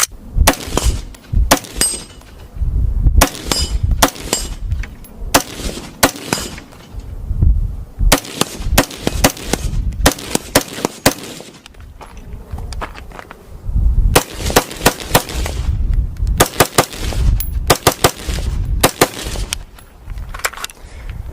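Rapid bursts of rifle gunfire from the video game Fortnite, loud and close, in repeated volleys with short pauses between strings of shots, no voices.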